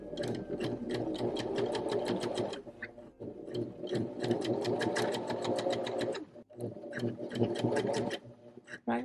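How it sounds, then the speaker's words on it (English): A sewing machine stitches the seam of a cardigan made from a thrifted blanket, running in rapid bursts with brief pauses between them. A person talks over the steady mechanical clatter. "we're going to turn it this way and we're going to stitch it again."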